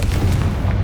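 Confringo fire-blast spell detonating in Hogwarts Legacy, a short deep booming burst that rumbles loudly for under a second with no voices.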